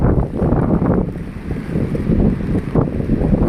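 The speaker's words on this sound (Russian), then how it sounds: "Ветер." Strong gusting wind on the Anapa seafront by the sea, roaring steadily across the microphone in loud broadband buffeting with surges near the start and end.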